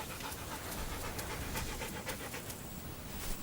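A wild dog, a dingo, pants steadily in the Australian bush, its quick breaths repeating in a continuous rhythm close by, moderately loud with no talking.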